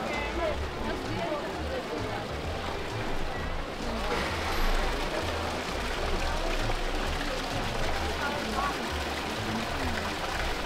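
Water runs steadily from a fountain in Rome, a continuous close splashing rush that fills the whole stretch, with voices talking over it.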